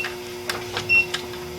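A sublimation printer at work, giving off a brief run of soft mechanical ticks and a short whirring pulse above a low steady hum. It sounds close and quiet, and no one speaks.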